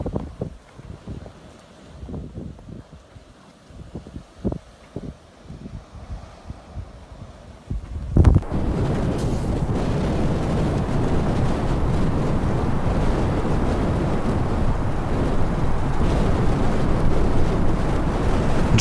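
Strong wind from a North Carolina mountain snow storm with 45 mph gusts, roaring as a loud, steady broadband rush that swells in suddenly after a quieter, gusty opening and then holds unbroken to the end.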